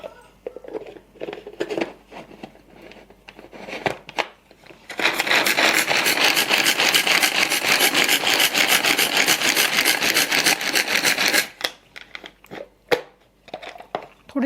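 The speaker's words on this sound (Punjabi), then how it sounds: "ਪਿਆਜ਼ ਜਿਹਨੇ ਤੁਸੀਂ ਬਰੀਕ ਵੱਧ ਤੋਂ ਕੱਟ ਸਕਦੇ ਆਂ ਤੇ ਉਹਨੇ ਬਰੀਕ ਕਰ ਲਈਓ ਤੇ ਇਹਨਾਂ ਨੂੰ ਚਲਾ ਦਈਏ ਆਪਾਂ" An electric chopper finely mincing onions for pav bhaji, a loud continuous whirring grind lasting several seconds, framed by shorter bursts of rubbing and clatter before and after.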